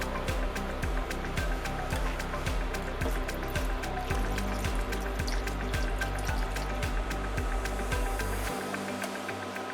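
Soy milk pours steadily into a pot of spicy pork and Chinese cabbage mille-feuille, a continuous liquid stream with faint rhythmic dripping that stops abruptly near the end.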